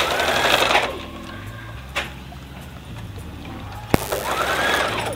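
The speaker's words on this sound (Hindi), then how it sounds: "अब मैं इस पर एक सिलाई चलाऊँगी।" A sewing machine runs a line of stitching on a kurta, its whirring motor buzzing in short runs at the start and end with a quieter pause and a sharp click between.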